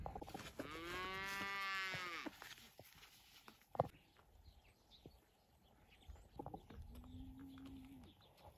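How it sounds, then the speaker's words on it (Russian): A herd of cattle grazes in a field in Khakassia, giving a long, loud moo, then a sharp knock and a second, shorter moo further off, with faint birdsong and quiet outdoor rustle. "Стада просто коровушек."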